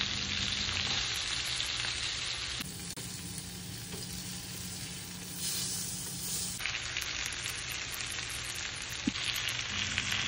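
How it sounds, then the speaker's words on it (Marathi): Rava-coated fish shallow-frying on a tawa, a continuous close hissing sizzle with small crackles and no voices. "आता हे मासे दोन्ही बाजूने शालो फ्राय केले"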